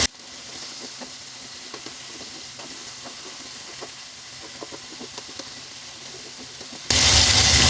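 Squash sizzles and crackles in a hot cooking pan while being stirred, a steady frying hiss with small pops, ending in a loud burst of noise.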